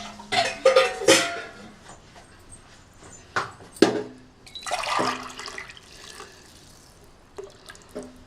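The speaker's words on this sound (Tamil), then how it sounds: "நான் இதுக்கு வந்து ஹாட் வாட்டர் தான் ஊற்ற போகிறேன்." Hot water is poured from a glass onto basmati rice for beef biryani in a home kitchen, giving several short splashing pours with pauses and clinks in between, fairly close and clear.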